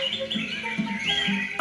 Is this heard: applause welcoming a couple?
no